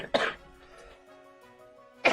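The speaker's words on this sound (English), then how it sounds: "Oh, pardon me and my cough." A video game character gives two short, sharp coughs, one at the start and one at the end, with faint soft background music between them.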